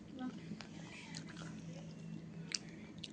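Someone eating chakka puzhukku mixed with mango pulissery, with quiet close-up chewing and soft biting, plus faint murmured voice sounds in the background.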